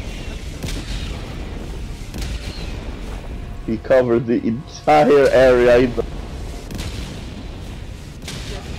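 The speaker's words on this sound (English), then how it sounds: "I was like, what is that explosion sound?" Booming explosions and gunfire from Helldivers 2 thud repeatedly in the background while people talk loudly over them.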